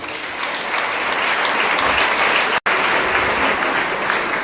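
Audience at an outdoor government distribution event in Plateau State applauds in a sustained, dense burst of clapping, loud and steady with one brief break.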